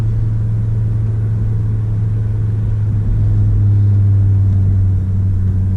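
Audi RS3 five-cylinder engine blipping to rev-match on downshifts, a loud, steady low drone from the car with a brief rise in pitch midway, heard from inside the cabin with no talking.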